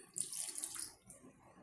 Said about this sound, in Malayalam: ഇതിലേക്ക് നമുക്ക് കുറച്ചും കൂടെ വെള്ളം ഒഴിച്ചു കൊടുക്കാം.